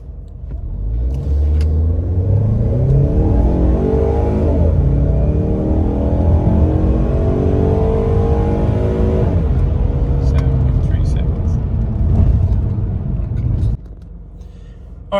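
Ford Mustang EcoBoost in sport mode accelerating hard for a 0-60 run, a loud steady engine drone with rising rev sweeps through gears for about twelve seconds before dropping off, heard from inside the car.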